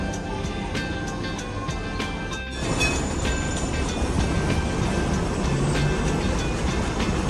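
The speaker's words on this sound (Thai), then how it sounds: "รถรางนะครับ" A Hong Kong tram runs along its tracks, a loud, continuous rumble and rattle of wheels with a steady mechanical drone that briefly dips, then builds again close by.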